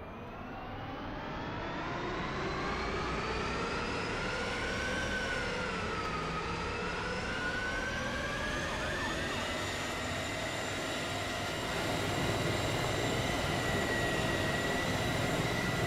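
A helicopter from the Wac Aircraft addon flying in Garry's Mod: a steady, droning engine and rotor whine whose pitch dips and recovers midway, continuous and fairly loud throughout with no talking.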